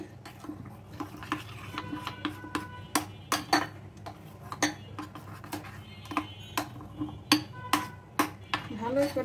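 Shrimp and pulse batter with egg being mixed by hand in a bowl, giving a steady run of close, wet squelches and light taps against the bowl with soft kitchen clatter.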